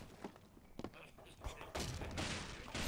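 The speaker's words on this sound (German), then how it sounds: "Die Explosion war extrem." Explosion in the PC video game Angry Birds, soft game thuds and crashes leading into a sustained, noisy blast and rumble of collapsing debris, fairly faint overall.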